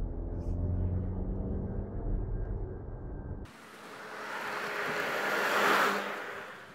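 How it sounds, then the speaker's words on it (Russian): Inside the cabin of a Skoda Kodiaq, the muffled diesel engine hums low and steady as the SUV drives, before fading into softer broadband road and wind noise. "дизель отлично шумоизолирован, и в салоне ты не ощутишь, что это дизель"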